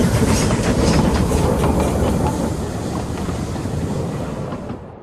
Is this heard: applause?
no